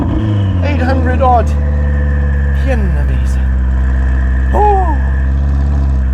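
A Ferrari supercar engine idles with a deep, steady rumble, then blips briefly in a few quick revs toward 3,000 rpm, heard close while someone talks over it.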